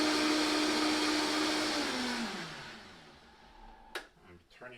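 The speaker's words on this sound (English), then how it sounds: "Turning off this Vitamix mixer" Vitamix blender whirring through a watercress smoothie, a loud motor roar that winds down in pitch and fades as it is switched off, followed by a few faint clicks.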